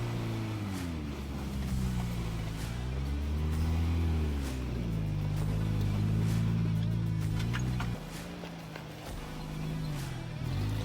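A modified off-road truck with a welded differential crawls over piles in the Canadian prairies. Its engine drones fairly quietly, the revs rising and falling in slow waves, then drop to a lower, rougher note near the end.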